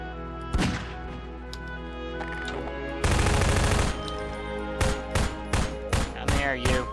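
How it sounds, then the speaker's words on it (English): Explosions from a fusion bomb in the Garry's Mod video game, a huge roaring blast in the middle followed by several sharp booming bursts, loud and close. "We're gonna blast that fusion bomb."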